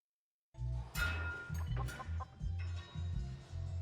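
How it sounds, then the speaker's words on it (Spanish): A pet rooster clucking close by, a series of short rhythmic clucks and squawks that start after a moment of silence and continue steadily. "¿Por qué tiene un gallo de mascota?"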